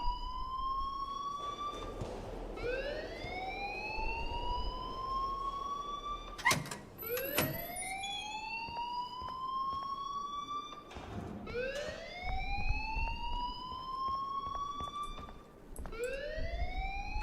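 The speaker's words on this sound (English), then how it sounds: "please turn off that alarm since that's your job" Repeated rising-and-falling electronic siren wails sweep through a school building in Life is Strange, loud and cycling steadily with a few sharp clatters in between, no one speaking.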